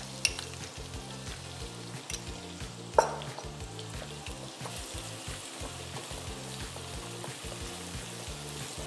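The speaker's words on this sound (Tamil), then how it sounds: "வெங்காயத்தை பொடியாக வெட்டி வச்சுருக்கேன், அதை இந்த ஸ்டேஜில் ஆட் பண்ணிக்குவோம்." Finely chopped onion frying in a pan for chilli paneer, a steady close sizzle and crackle running throughout with one brief sharp clink partway through and no talking.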